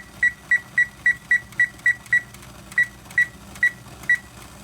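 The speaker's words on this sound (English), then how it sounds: "So the timer went off" A kitchen timer beeps over and over in steady pulses near the microphone, with a short break before a few more beeps, while eggs hard-boil on the stove.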